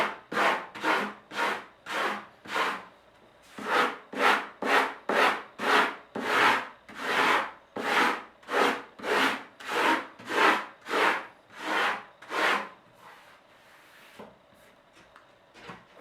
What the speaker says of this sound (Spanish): Y ahora lo termino con lija.